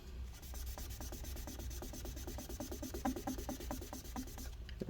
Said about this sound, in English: This part is stuck a bit, so let's try and scrape it off.